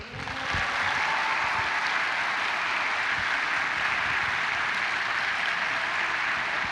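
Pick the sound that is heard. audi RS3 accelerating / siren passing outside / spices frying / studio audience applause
studio audience applause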